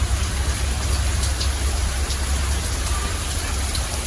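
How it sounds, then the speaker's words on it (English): Steady rain falls close by as a dense, continuous hiss with scattered drop impacts, constant in level throughout, with no voices. "Thank the Lord for the rain."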